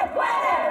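A loud pro-Clinton crowd at a political rally in Phoenix, Arizona, chanting together in Spanish as one sustained, close mass of voices in a brief burst.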